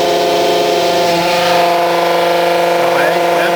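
A Lohmann+Stolterfort hydraulic motor runs on a test bench with its brake released, at about 197 bar. It gives a loud, steady, continuous hum of stacked tones that hardly changes over a few seconds.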